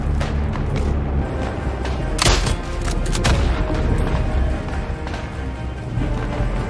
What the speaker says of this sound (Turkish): Silah sesleri çok kötü abi